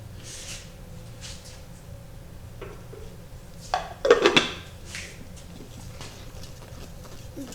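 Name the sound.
paper name slips shaken in a wooden lidded dish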